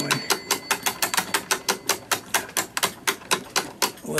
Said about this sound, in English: And then we have to reverse the direction of the ratchet.